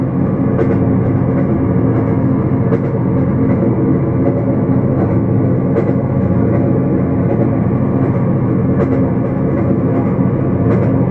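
A Norfolk Southern freight train carrying shipping containers rolls along, giving a loud, continuous rumble close by, with faint periodic clacks over the steady roar.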